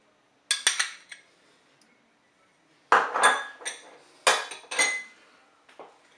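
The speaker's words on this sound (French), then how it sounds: "Je mélange bien sûr." Utensil stirring crème fraîche in a Cookeo multicooker pot, giving sharp metallic clinks and scrapes in several close bursts separated by short pauses, with no talk.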